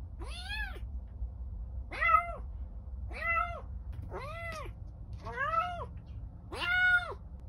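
A bobtail kitten meows six times in a row at a steady pace, each call clear and close, with a low background hum.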